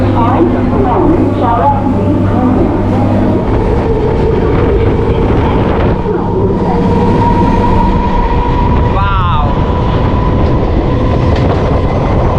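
A Katwa local commuter train rumbles along loudly, wheels clattering on the rails, with a brief squeal and people talking over the noise, leaving Howrah station.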